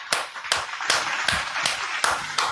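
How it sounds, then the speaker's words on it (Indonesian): Hands clap in a steady, evenly spaced rhythm, about seven sharp claps, close and fairly loud with no voices over them. "Tepuk tangan."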